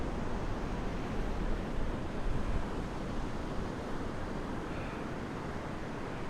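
Atlantic Ocean surf rolls onto a wide beach at low tide at Smith Point, Long Island, a constant broadband wash of waves with wind rumble, fairly distant and unbroken throughout.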